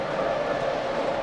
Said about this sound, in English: There's Brian running the trains.